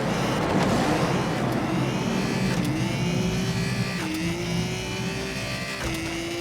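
Racing car engine in the Asphalt 9 game, a loud continuous droning buzz holding steady with gear-shift steps in pitch every second or so throughout a lap.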